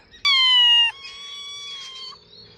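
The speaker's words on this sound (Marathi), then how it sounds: "हे मांजराचं पिल्लो इथं मला घाटामध्ये सापडलं" A small kitten gives a sharp, high meow close up, followed by a softer, longer mewing cry against a quiet background.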